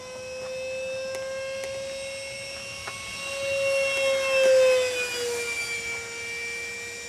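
A 70 mm electric ducted fan model of an F-104 Starfighter gives a steady high-pitched turbine-like whine. The tone shifts and swells as the jet passes close by, then trails off, with no talk.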